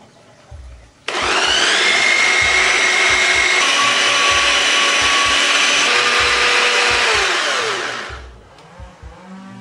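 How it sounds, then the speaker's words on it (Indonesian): An electric food chopper grinding spices whirs loudly for about seven seconds, a steady high-pitched grinding drone that starts abruptly and winds down at the end. "Terus kita mau giling pakai choppernya."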